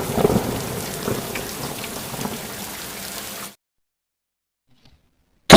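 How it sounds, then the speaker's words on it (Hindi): Heavy evening rain pours down hard, with a low thunder rumble near the start, then cuts off abruptly into silence before a brief click at the end. "जैसे ही शाम होती है वैसे ही भीषण बारिश शुरू हो जाती है।"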